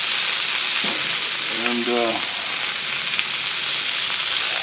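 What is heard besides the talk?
oil sizzling on Blackstone griddle with sausage and peppers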